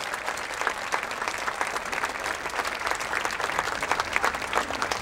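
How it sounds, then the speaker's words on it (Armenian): A concert audience applauds a pianist in Yerevan, dense continuous clapping from a full hall that holds steady throughout. "Եվս մեկ անգամ բարձր ծափարենք"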